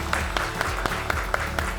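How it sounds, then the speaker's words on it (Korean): Applause from an audience at an online job fair recruitment session, a steady patter of clapping with a low musical bed underneath and no voices. "오늘 진짜 좋은 말씀 많이 해주신 우리 두 대표님께 다시 한번 큰 박수 부탁드리겠습니다."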